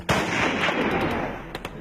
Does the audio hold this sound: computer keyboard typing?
no